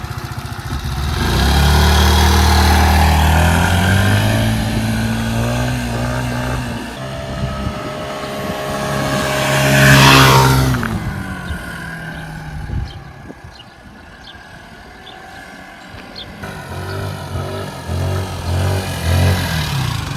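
A Mondial Wing 50cc automatic scooter engine revs up loudly up close, holds a rising buzzy whine, peaks, then drops back to a rough idle with a few short blips of throttle.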